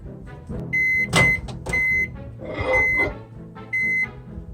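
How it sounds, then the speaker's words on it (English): Microwave oven heating melt-and-pour soap base, with steady tonal beeps repeating several times at close range over a background hum and some handling noise. "I like to microwave mine an extra 10 seconds past what I think is completely melted"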